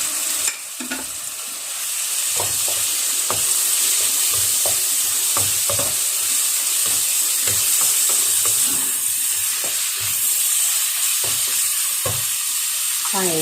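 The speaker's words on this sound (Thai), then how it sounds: "แล้วก็ใส่ ปลากับหมึกไปเลยนะคะ" Salmon and squid stir-fry loudly in a hot pan, a steady close sizzle broken by repeated scraping taps of the spatula against the pan throughout.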